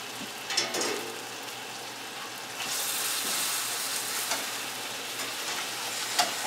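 Meat sears in a hot pan after being turned over, a steady close sizzle and frying hiss that swells louder partway through and keeps crackling to the end, with no talking.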